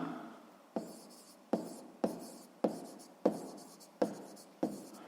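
Pen strokes on paper during a 6th-grade maths exercise, eight distinct scratchy writing bursts in a steady rhythm, close and fairly quiet with no voices.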